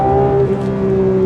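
A Porsche 992 ST's engine screaming at around 8,000 RPM from inside the car, a loud, steady high-pitched buzzing note held throughout with no talk over it.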